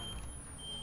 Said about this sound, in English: sorry if you're hearing that beeping right now